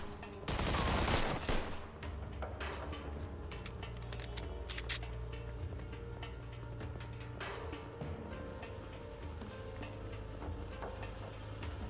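A loud burst of rapid gunfire in the video game Mafia 2 at the start, then scattered sharp shots and clicks over a low steady hum.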